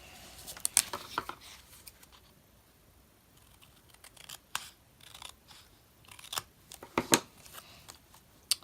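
Sharp snips of scissors cutting paper, close up, coming in irregular bursts with quiet pauses between them.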